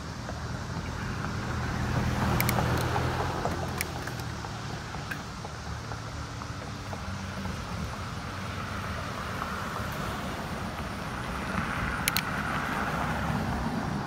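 Steady weekday afternoon road traffic beside a bike trail on a university arts campus, cars and trucks passing with a continuous roar that swells and fades, a few sharp metallic clicks or squeaks near the trail, no talking.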